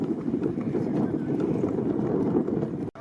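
Horses pull carts in a race, their hooves clattering in a dense, continuous galloping rumble at moderate distance, with crowd noise mixed in.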